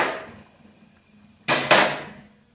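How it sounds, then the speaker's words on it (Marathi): A metal griddle pan is set down on a stove with a sharp double clank, ringing briefly before fading, after a stretch of near silence. "फिश फ्राय करण्यासाठी मी इथे आता तवा ठेवून देते"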